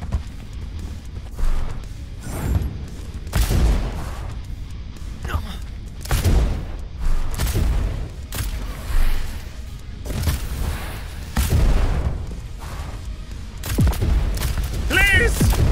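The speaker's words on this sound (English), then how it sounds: "I just shoot it out of frustration." Video game gunfire in Hell is an Office, a series of sharp shots spread across the stretch, some in quick bursts, with game sounds and a voice talking over parts of it.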